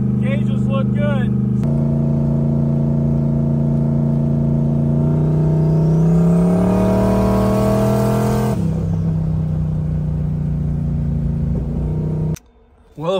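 A no-prep drag build car cruising in third gear at 60 mph, around 3,000 RPM, while losing oil pressure: a loud, steady engine drone close inside the cabin, its pitch slowly climbing, then dropping before cutting off near the end.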